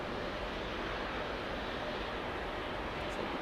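A jet airliner departing Heathrow runway 09R gives a steady, broadband roar that holds loud and constant throughout, with no talking.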